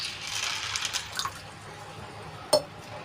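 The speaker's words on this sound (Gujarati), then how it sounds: "તો હવે આપણી દાળ ડૂબે એટલું આપણે એમાં પાણી એડ કરી લઈશું" Water is poured into a bowl of chana dal, a soft, brief splashing trickle close by, followed after a pause by a single sharp clink of the bowl.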